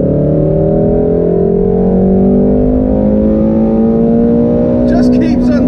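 A Shelby GT350 or Ferrari 458 engine revs loudly toward 8,000 RPM, climbing steadily in pitch under hard acceleration, a sustained close roar with a brief vocal sound near the end.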